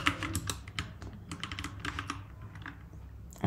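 Rapid clattering keystrokes on a computer keyboard while setting up Neovim Lua config files, irregular bursts of clicks close to the mic with no talking.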